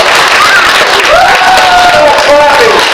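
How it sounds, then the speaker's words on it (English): Audience at a library magic show claps steadily for about three seconds, the applause close and full, while a voice or whistle-like tones rise and fall above it. "Go ahead and clap."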